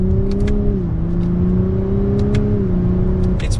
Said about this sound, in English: we'll give it a little bit of gas